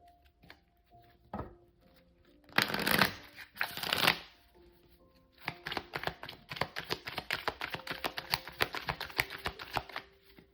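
Tarot cards are shuffled up close: a few sharp riffling bursts, then a long run of rapid crisp flicking and tapping, quiet and alone with no talking.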